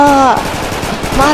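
Rapid bursts of gunfire in a Hindi action fight scene, loud and close, with shouting voices rising over the shots at the start and end.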